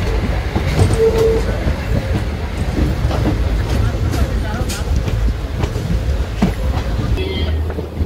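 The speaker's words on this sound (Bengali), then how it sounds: "ট্রেনটি আস্তে আস্তে স্টেশন ছেড়ে বেরিয়ে যাচ্ছে" The Silchar Express, a long-distance train, eases slowly out of a Kolkata station with a steady, close, loud rumble of rolling carriages and rail clatter, a faint squeal near the end.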